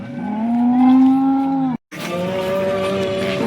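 Two long, loud, close cow moos at the Sangola cattle market, the first sustained and tonal, then a brief silence before a second drawn-out bellow, with no talking.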